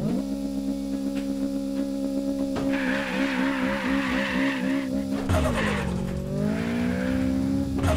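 Turbocharged Toyota Trueno AE86 in a racing video game, engine droning and shifting pitch as tires squeal and skid through drifting turns, with revving surges, loud and continuous.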